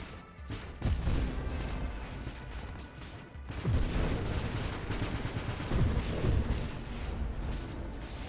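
Rapid bursts of bullets fire in the space shooter Nova Drift, rattling crackles and impacts running almost continuously with a brief lull partway through, loud and dense, with no speech.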